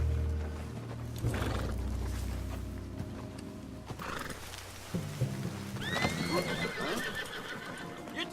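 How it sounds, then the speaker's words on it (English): A horse in the Red Dead Redemption 2 video game gives several loud whinnies and neighs over clip-clopping hooves, with rumbling game ambience and scattered outdoor noise around it. "What's wrong with this horse?"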